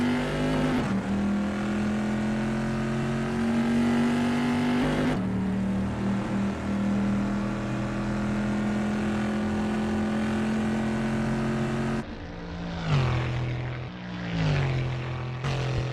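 A pre-1973 vintage race car in Assetto Corsa powers through the Rivazza corner at Imola. A loud, steady engine drone holds near and continuous, then drops pitch sharply and wavers as the car brakes and shifts toward the end.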